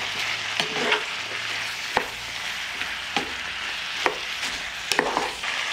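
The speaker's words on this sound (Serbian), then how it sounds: "Sve ću sad ovo promešati i nastaviti dalje da prži." Onion and meat frying in a pan while being stirred: a steady close sizzle with a few sharp scrapes and knocks of the utensil spaced through it, no talking.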